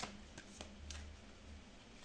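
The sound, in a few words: shuffling a deck of oracle cards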